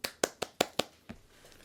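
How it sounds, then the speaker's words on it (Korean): Roughly six crisp, evenly spaced hand claps greet a speaker at a talk, close and sparse, then taper into faint scattered taps. "박수로 맞이할까요?"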